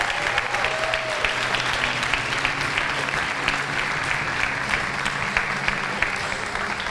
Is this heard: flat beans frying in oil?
no